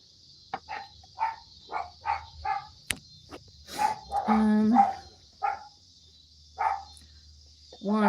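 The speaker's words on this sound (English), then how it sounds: "You guys, no bark. You know better. No bark. Sorry. Dogs." Several dogs indoors bark in short repeated bursts, a quick run of sharp close barks followed by louder overlapping ones, with scattered pauses and faint insect chirping in the background.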